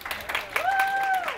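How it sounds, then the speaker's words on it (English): An audience claps for a volunteer at a math lecture, a steady wash of applause lasting the whole moment while a speaking voice runs over it. "Could you give Greta a round of applause for helping me with this?"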